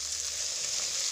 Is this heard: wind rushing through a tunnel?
no